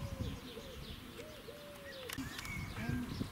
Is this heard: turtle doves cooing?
yes